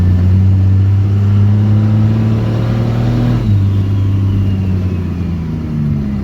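A Cummins diesel truck engine fitted with new 5x.022 injector nozzles runs loud and close while warming up. Its deep, steady drone shifts pitch partway through as the revs change, and it carries on rumbling to the end.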